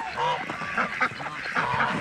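Geese or ducks in a small backyard flock give repeated nasal honks close by, several calls overlapping over steady outdoor background.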